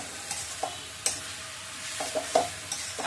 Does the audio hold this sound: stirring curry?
yes